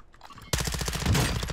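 A rapid burst of gunfire crackles in Call of Duty MW2 DMZ, a dense string of sharp reports starting abruptly after a quiet moment, close and loud.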